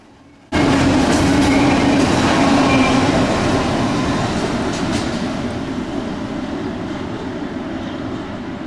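A passing train at Altoona, Pennsylvania bursts in abruptly after a quiet moment and roars by loud and close, a dense rumble with wheel clatter that slowly eases.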